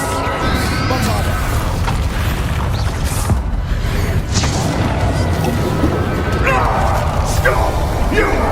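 Bombarda spell blasts from the video game Hogwarts Legacy boom loudly amid dense, crashing battle noise, with voices speaking over the din.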